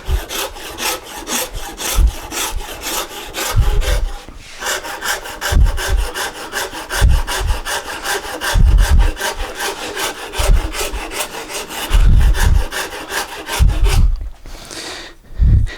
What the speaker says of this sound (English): Just taking my wood rasp.